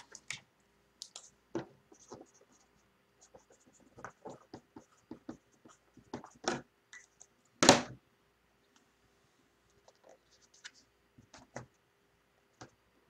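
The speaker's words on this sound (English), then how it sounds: "let me just write this down" Pen writing by hand during a football trading card box break, giving sparse scratchy strokes and soft clicks in short irregular bursts, close and quiet, with one louder scrape partway through and no talking.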